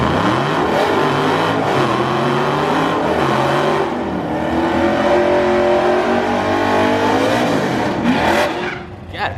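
Dodge Scat Pack with a 392 engine revving hard at a drag strip, a loud roaring V8 with rising and falling pitch sweeps held for several seconds, then cutting off abruptly near the end.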